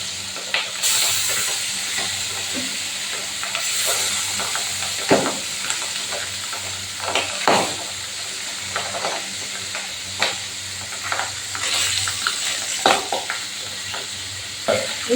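Pabda fish frying in hot oil for a Bengali tel jhal, a steady close sizzle with crackling pops and occasional louder spatters throughout.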